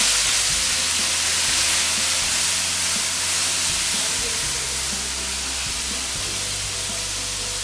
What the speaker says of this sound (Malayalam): ഇതൊന്ന് മിക്സ് ചെയ്യാം